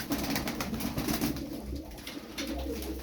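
Pigeons coo in low, soft, repeated murmurs close by, layered over a busy background of fluttering and rustling.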